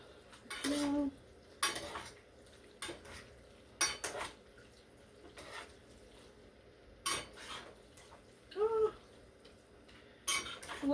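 A fork and spoon clink against a pot while folding spaghetti in red sauce, scattered close metallic scrapes and taps in separate bursts over a quiet kitchen background.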